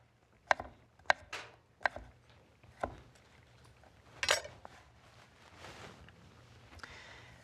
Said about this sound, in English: just slice them like that